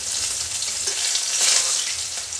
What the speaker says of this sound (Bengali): মাছটাকে আমি খুব ভালো করে লাল লাল করে ভেজে নেব